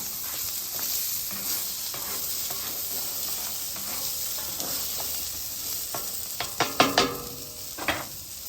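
Steak, mushrooms and fried rice ingredients sizzling on a flat griddle, a loud continuous hiss with spatula scrapes and clatter building toward the end, close up and with no voices.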